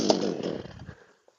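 A chainsaw used for felling a pine tree gives a short, loud revving burst. It fades and dies away within about a second, leaving silence.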